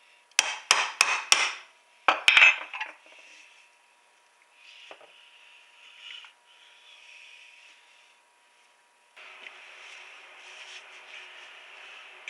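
An oil filter from a Subaru WRX STI being cut open, with a burst of sharp metallic cracks and clanks up front, then softer scraping and grinding with pauses and a steady hiss near the end.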